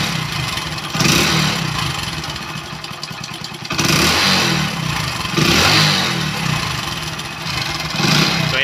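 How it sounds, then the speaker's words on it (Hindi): A motorcycle engine with a suspected piston knock is revved repeatedly with the throttle, loud and close, its surges rising and falling over a steady clattering tick. "जैसे मैं इसका थ्रोटल लेता हूँ तो यहाँ पे पिस्टन की जैसे टिक ट्रिक ट्रिक की आवाज़ आएगी।"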